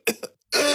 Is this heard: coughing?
yes